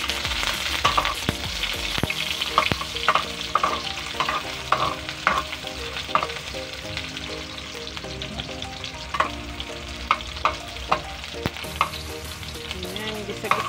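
Onions sautéing in hot oil for adobong atay balunan, a steady sizzle broken by repeated sharp scrapes and taps of a spatula against the pan as they are stirred, close and clear with no talking.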